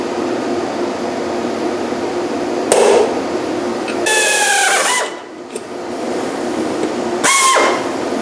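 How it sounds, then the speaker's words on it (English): A power drill bores a fitting hole for a lawn mower deck wash kit, whirring in bursts, with short spells of steady grinding separated by quieter pauses and a few sharp knocks. "I'm going to drill a hole about that size"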